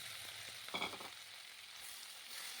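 Four tomatoes frying in a pan with garlic and curry leaves for a spicy kara chutney, a soft steady sizzle with a brief louder burst of stirring partway through, close and alone.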